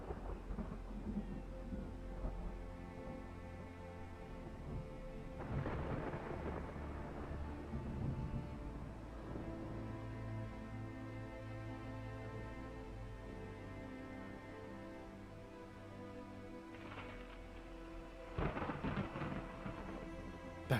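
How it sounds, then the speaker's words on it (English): Thunder rolls across a mountain valley in a video game storm, sustained low rumbling with a couple of louder crackling peaks rising over a continuous musical backdrop, no talking. "streaks of lightning scorched the sky, and thunder roared throughout the valley"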